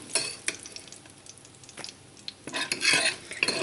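Bacon crackling and sizzling in a frying pan, with scattered clinks of a utensil against the pan and louder bursts of spatter toward the end, close by with no talk.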